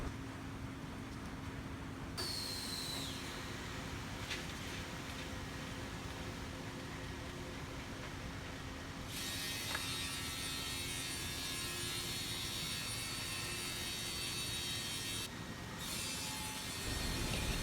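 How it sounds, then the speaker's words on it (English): A CNC machine trims the four edges of magnesium oxide (MGO) board in a factory, giving a steady, dense, grinding roar with faint high whine that holds for the whole stretch, no voices. "we will use this CNC machine to cut in the four edges of MGO board according to customer's requirement size"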